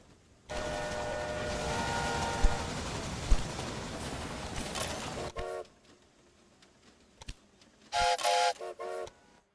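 Trains running in the strategy game Railway Empire, a broad rumbling roll for several seconds with harmonic whistle-like tones, then short bursts of bright horn-like toots near the end.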